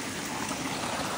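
Rainwater runs down a muddy Appalachian Trail path in a continuous, even rushing trickle, close and moderately soft, with no voices over it.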